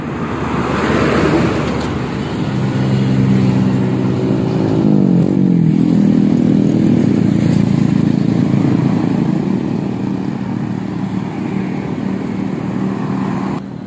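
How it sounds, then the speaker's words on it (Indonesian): A truck rumbles past on a road, its engine note rising then dropping as it goes by, with steady traffic noise throughout. "Diikuti oleh truk ya."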